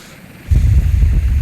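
Helicopter in the naval combat game Sea Power, a low, steady rotor and engine rumble that swells in abruptly and holds loud and close.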